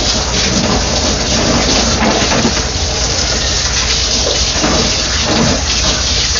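Hot water sprays hard from a hose onto a Samsung front-loading washer during cleaning, a loud, continuous hiss and splatter that stays dense and unbroken throughout.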